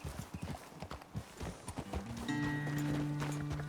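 Horse hooves in the video game Red Dead Redemption 2, a brisk run of clip-clops that gives way to a sustained droning tone and a faint neigh toward the end.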